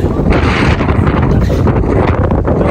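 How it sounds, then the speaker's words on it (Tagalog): Strong wind buffets the microphone atop the Acropolis in Athens, a loud, continuous roar with gusty swells throughout and no clear speech. "Mahangin o."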